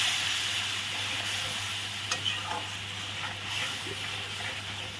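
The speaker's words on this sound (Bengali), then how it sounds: "জলটা দেওয়ার পর মশলাটা আমি একটু ভালো করে কষিয়ে নেব।" Masala fries in a pan after a splash of water, a loud hissing sizzle with a faint steamy edge and light stirring scrapes over a low steady hum, without talk.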